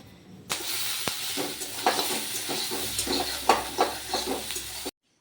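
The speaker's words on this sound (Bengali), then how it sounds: "এদিকে আমি মশলা পাপড় ভাজছি" Oil sizzles and crackles steadily as masala papad fries in a pan, with occasional scraping and stirring sounds, close by and without talk.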